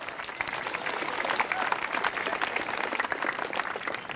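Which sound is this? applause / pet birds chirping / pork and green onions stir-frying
applause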